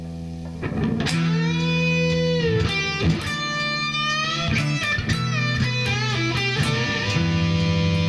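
Electric guitar solo played with a string-bending technique, sustained distorted notes sliding and bending in pitch, loud and continuous with short gaps between phrases.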